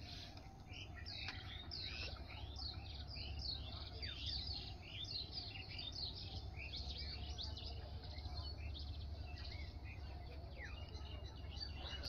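Village birdsong on a foggy winter morning, with many small birds chirping and tweeting continuously at middle distance over a steady low rural hum.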